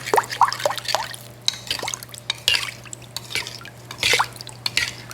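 Homemade SPAM mixture with salt and sugar stirred in a bowl makes irregular wet clicks, squelches and dripping sounds, close and intermittent, over a faint steady hum.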